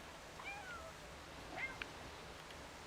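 A cat meows in the video game Stray, two or three faint, short meows over quiet ambience.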